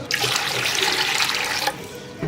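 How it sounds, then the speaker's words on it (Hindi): About a litre of room-temperature water poured into a non-stick pot, a steady splashing gush lasting around two seconds before it cuts off. "इसके अंदर हम ऐड करेंगे 1 लीटर पानी"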